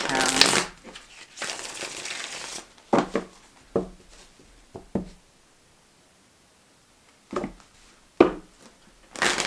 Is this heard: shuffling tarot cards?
yes